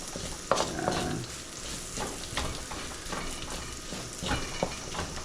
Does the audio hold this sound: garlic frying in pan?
yes